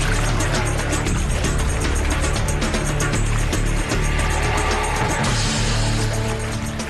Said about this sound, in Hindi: अरे वाह, ये तो इंजन की आवाज है।